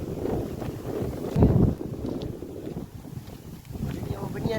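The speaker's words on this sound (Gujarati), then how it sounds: "પવન એવો છે ને, ઝાડવા ખાવા લઈ નાખે છે" Strong wind gusts across open rural ground, roaring and buffeting the microphone with low rumbling surges that swell and ease, rustling trees in the background, with no clear talk over it.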